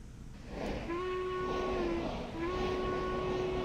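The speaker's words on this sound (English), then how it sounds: "we're going to whistle because we stopped" A steam locomotive whistle in the railroad game Railroads Online sounds two sustained, fairly loud tones separated by a short gap, over a low rumbling background.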